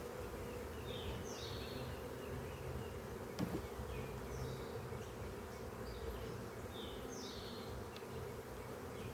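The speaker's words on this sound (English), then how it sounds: "There's still quite a bit of bees in here, so that one is fanning." Honey bees fanning inside a queenless hive in an apiary make a steady, dense buzzing drone that fills the whole stretch, with a brief knock partway through and no voices.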